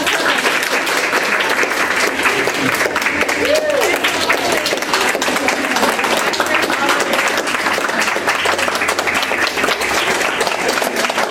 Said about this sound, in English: another round of applause for Sheila.